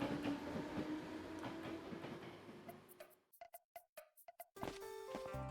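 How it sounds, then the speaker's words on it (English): Train riding in the Sousaku Kanojo no Ren'ai Koushiki video game: a steady rumbling rail car carries on for about three seconds, then breaks into rapid clickety-clack bursts separated by near silence before the rumble returns. "Kimizaka signs herself to her fate as we all board the train."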